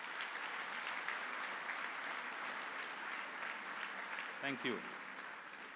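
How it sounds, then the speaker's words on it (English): Applause from a convocation audience for graduating students, steady and continuous, with a brief spoken thanks near the end. "why don't we give all these young scholars of ours a big round of applause"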